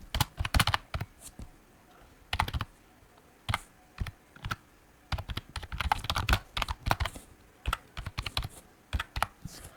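Code being typed on a computer keyboard for a programming problem, bursts of quick close key clicks with short pauses between them, fairly clear, with no talking.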